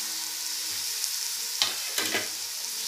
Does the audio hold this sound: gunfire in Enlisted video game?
no